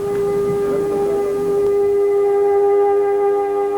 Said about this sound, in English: sirens brought stillness to every Israeli for 2 minutes today to mark the Holocaust.